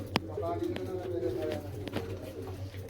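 Pigeons kept by a fancier coo softly in low, rounded repeated calls, fairly close but quiet, with a sharp click and some faint background noise.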